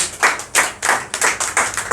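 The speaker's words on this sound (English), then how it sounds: "So guys, clap for Kajol" A small group in a classroom claps close by, about eight uneven, fairly loud claps in quick succession.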